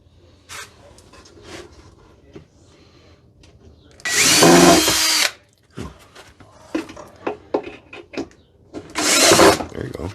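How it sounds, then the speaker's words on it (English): A power drill drives screws into wooden fence pickets during a DIY picket display build, in two loud, sustained bursts several seconds apart with quieter talk and handling noises between them. "Keep your drill level."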